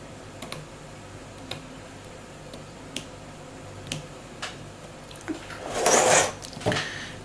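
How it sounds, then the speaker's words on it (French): Scissors snip material for a handmade gift box in a series of small, sharp, close clicks spread over several seconds, ending with a louder rustle and a brief rasping cut. "Et je vais prendre le ciseau pour couper."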